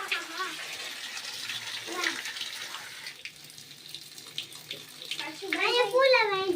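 Water gushes from a newly connected toilet water pipe in a bathroom as a steady, fairly loud splashing flow. People talk and laugh over it.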